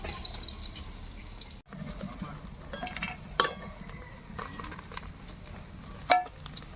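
Fried koi fish are lifted out of a pan of hot oil, with a continuous low sizzle, scattered scrapes and clinks from a utensil, and a couple of sharper knocks, close by.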